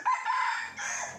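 A decoy jungle fowl rooster crows once, close and fairly loud, in a short, strained call set in the middle of a wild-fowl snaring circle.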